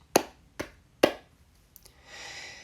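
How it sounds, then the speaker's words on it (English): Three sharp, equally spaced claps or knocks for a ritual land about half a second apart, crisp and close, followed by a softer rustle. "you can just have 3 equal knocks or claps"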